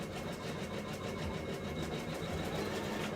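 A sewing machine runs a straight stitch along a pinned seam, a fast, even mechanical whir with a rapid needle rhythm, continuous and fairly close.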